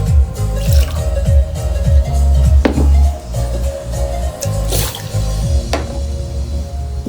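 Water pouring steadily into a container, with dripping and sloshing liquid sounds running continuously close up and a few sharper splashes along the way.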